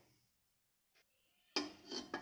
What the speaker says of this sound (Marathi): आता हे मी कुकरमध्ये डबा ठेवते